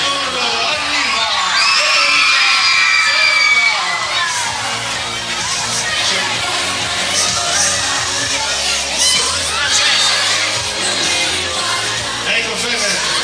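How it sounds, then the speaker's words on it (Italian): Crowds of fans scream and whoop as a singer arrives at the Pratosardo shopping centre in Nuoro, a loud, sustained chorus of high-pitched shrieks and yells echoing through the mall, with voices talking underneath. "Lo riconosce l'urlo, arriva!"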